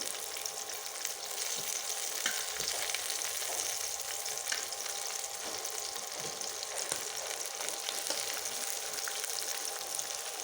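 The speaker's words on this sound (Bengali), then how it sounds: "রসুনগুলো দিয়ে দেবো, শুকনো মরিচগুলো একসাথে ভেজে নেব" Garlic, onions and dried chillies fry together in a pan for a hilsa fish tail bharta, producing a continuous, fairly soft sizzling hiss with faint crackles throughout.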